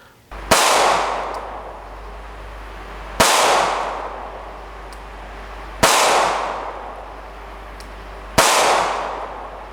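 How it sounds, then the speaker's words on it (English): Four sharp, loud gunshots from a CZ 2075 RAMI BD sub-compact pistol at a shooting range, evenly spaced about two and a half seconds apart, each with a ringing decay and no talk. "Now at the range, I found that it was a pleasure to shoot."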